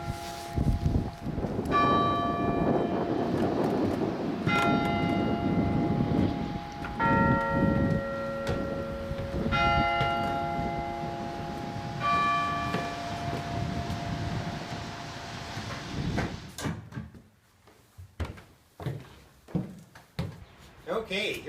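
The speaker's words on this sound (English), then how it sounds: "here we are up in the belfry of the Bells of St. James" Church bells of St. James ring loud and close in the belfry, overlapping strikes sounding every few seconds with long ringing decay, falling silent near the end where scattered knocks and movement remain.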